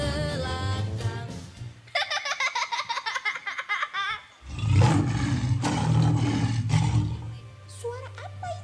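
A lion roar in a children's musical drama performance, loud growling roars that seem to be voiced by a performer imitating the animal, mixed with children's laughter and voices and a raucous crowd burst midway.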